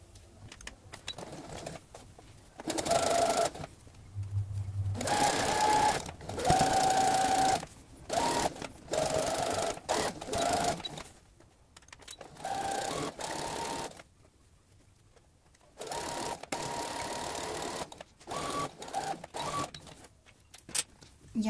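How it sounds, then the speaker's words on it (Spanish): A sewing machine stitches a multipurpose fabric bag in several bursts of steady mechanical whirring, each lasting a few seconds, with short quiet pauses between them and faint background noise. "trataremos de coser lo más cercano a este borde posible"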